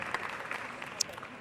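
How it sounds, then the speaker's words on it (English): A crowd applauds at a professional pool match, a steady wash of clapping throughout, moderately loud and continuous with a few sharper claps standing out. "Big round of applause from the crowd there"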